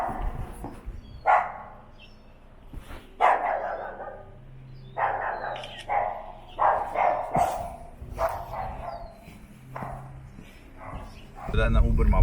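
A dog barks in a series of short, sharp bursts at moderate distance around a residential home in California, with someone talking in between and over the barks.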